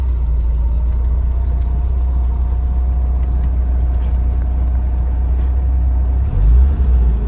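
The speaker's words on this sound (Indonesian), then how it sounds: "cuman memang untuk mobil BMW 30 ini cenderung mesinnya berisik ya di dalam" Heard from inside the cabin, a 1991 BMW E30 engine runs with a steady, loud low drone and a faint whine, continuous throughout with a brief shift in tone near the end and no talking.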